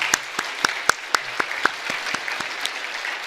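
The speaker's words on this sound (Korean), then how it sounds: "오늘 졸업하는 분들과 그 다음에 오늘 수료식에 참여하신 이분들을 위해서 다시 한 번 더 큰 박수로 축하하겠습니다" A church congregation applauds graduates and certificate recipients during a Sunday service, sharp separate claps standing out at first and then blending into a steady, moderately loud round of applause with no talking over it.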